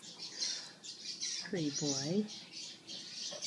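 A baby yellow parrotlet gives short, shrill squawks in bursts, fairly close and quiet, while a person speaks briefly in the middle.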